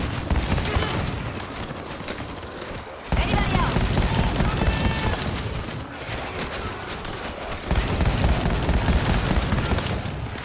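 Machine gun fire in World War Z, dense rapid bursts and loud volleys that stop and restart, under excited talk from players.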